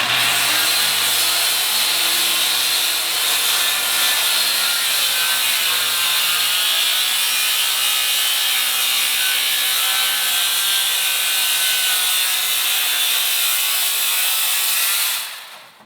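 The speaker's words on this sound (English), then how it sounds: "here we go, the first rip," A circular saw running along a Kreg Accu-Cut guide rips an 8-foot board in one long, steady, loud whine that holds for about fifteen seconds before cutting off abruptly.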